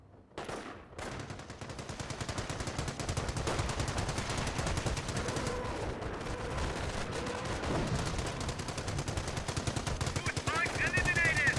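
Rapid machine-gun fire from the real-time strategy game Company of Heroes rattles in long, dense bursts, with other gunfire layered into a loud, continuous battle din.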